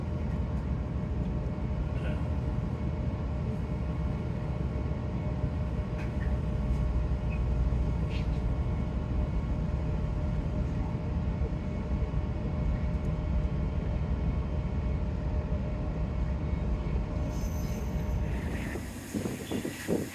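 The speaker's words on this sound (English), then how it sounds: "Right, well there goes our train." A train rumbles past near the seaside line at Dawlish, Devon, a steady low roar lasting many seconds before tapering off, with faint voices nearby.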